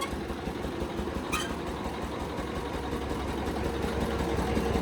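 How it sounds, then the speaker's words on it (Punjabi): A tractor engine idles with a steady low rumble, close by and constant, with a brief higher whine partway through. "ਲਓ ਜੀ ਆਸ਼ਾ ਟਰੈਕਟਰ ਪਹੁੰਚ ਚੁੱਕਿਆ ਸੇਮੀਆਂ ਬੱਟਣ ਵਾਸਤੇ"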